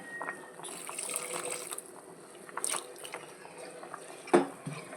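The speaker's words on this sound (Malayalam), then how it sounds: "ചൂട് വെള്ളം ഒഴിച്ചു കൊടുക്കണം" Hot water is poured into a simmering curry in a home kitchen, a faint trickling splash under light clatter, with a louder gush of liquid near the end.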